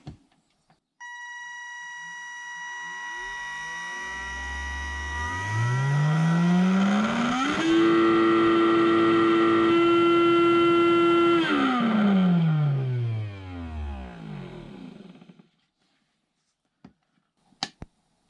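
A small Tamiya Sport Tuned electric motor whirs up from silence, climbs to a steady high-pitched whine, holds for several seconds, then winds down and stops.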